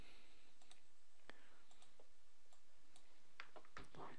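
Mouse clicks on a computer: a handful of quiet, sharp single clicks spaced irregularly over a faint background hiss, with a few clicks grouped closer together near the end.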